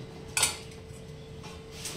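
A lid is set on a pot of sabudana khichdi cooking on a low flame, giving one short metallic clank followed by quiet kitchen hum.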